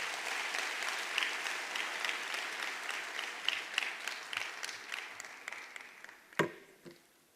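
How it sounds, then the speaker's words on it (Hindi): A crowd at a network marketing seminar applauds a guest on stage, steady clapping that gradually thins into scattered individual claps and a few sharp louder ones near the end. "जोरदार तालियां होनी चाहिए सर के लिए।"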